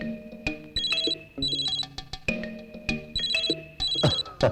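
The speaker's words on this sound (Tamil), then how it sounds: "போன் அடிக்குது." A phone rings at home with a repeating electronic ringtone, bright chirping bursts in a steady pattern played several times, loud and close with no talk over it.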